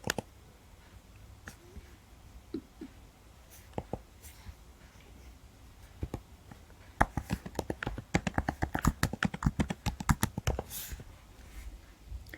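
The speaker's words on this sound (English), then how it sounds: "Let's type our keywords into Google." Keywords typed on a computer keyboard, with sparse isolated key clicks at first and then a rapid close burst of typing, and faint background talk.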